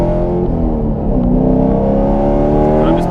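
A supercharged HPE750 Camaro SS engine pulls at part throttle, a loud, steady, close-up drone with harmonics that rise slightly as it accelerates, and no voices over it.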